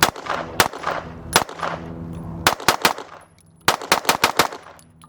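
Rapid bursts of gunfire from ported 2011 pistols at an outdoor range: loud, sharp shots in quick strings of two to five, with short pauses between volleys and ringing decay after each.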